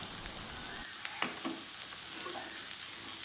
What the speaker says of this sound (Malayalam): ലോ ഫ്ലെയിമിലാണ് ഇളക്കി കൊടുത്തിരിക്കുന്നത്.